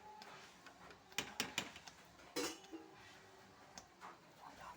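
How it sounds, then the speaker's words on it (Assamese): A spoon stirs a mango papad mixture in a pot, making quiet, irregular metallic clinks and scrapes against the sides, with short bursts of clatter between softer stretches. "এনেকৈ লাৰি থাকিব লাগিব"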